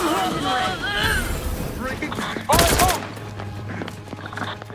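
Gunfire from a weapon in the video game Outer Worlds 2 comes as one loud burst of shots partway through, with someone talking over game sounds before it and quieter effects after.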